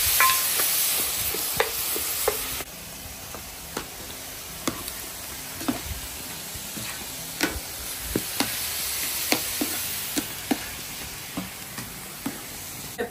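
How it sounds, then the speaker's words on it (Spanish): Carrots cook in a hot pan with a continuous sizzle, punctuated by frequent sharp clicks and scrapes of a utensil stirring against the metal. No one speaks. "aquí tengo el sartén ya bien caliente para cocinar las zanahorias"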